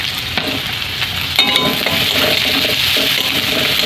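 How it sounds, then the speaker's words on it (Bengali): Onion fries in mustard oil in a pan, a loud close sizzle broken by a few scraping stirs and light clinks of a utensil, with no voice over it. "পেঁয়াজটা ভেজে নেব।"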